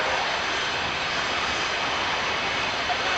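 A Hawker Hunter jet flies a display at the Kemble Airfield airshow, producing a loud, continuous roaring rush of engine noise that fills the whole moment with no break.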